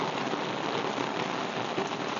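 Heavy monsoon rain pours down steadily in a Sialkot village, a dense, even hiss of drops on surfaces with no voices and no letup.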